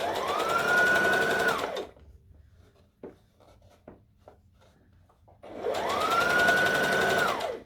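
A sewing machine runs in two sustained bursts while stitching a fabric seam on a Halloween costume, loud and close, with quiet handling clicks and rustles between the runs.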